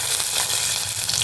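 Mustard seeds, urad dal, chana dal and green chilies frying in hot oil for a tomato thokku, a dense, steady sizzle with light crackling, close and alone.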